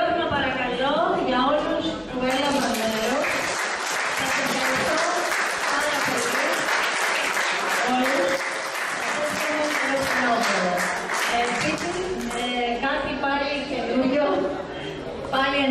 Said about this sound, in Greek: ένα χειροκρότημα παρακαλώ για όσους που έλαβαν μέρος